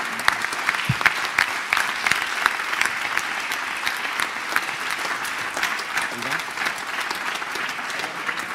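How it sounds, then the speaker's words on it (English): Sustained audience applause fills a hall at an international film festival, an even wash of many clapping hands with sharp individual claps standing out. Faint talk runs underneath. "ladies and gentlemen, keep on applauding for Mr. Armando Iannucci."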